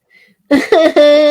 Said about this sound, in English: Of course, I get this stupid cough